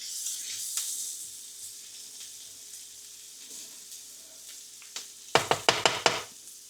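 Garden onions frying in a pan, with a steady soft sizzle under quiet kitchen sounds, then a burst of several sharp clattering stirs near the end.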